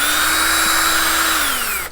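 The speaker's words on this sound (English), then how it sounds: "you have to do this in water and you have to put it like on the slowest drilling setting" Power drill grinds steadily into a ceramic pot under water at a slow setting, a loud continuous whine whose pitch slowly drops near the end.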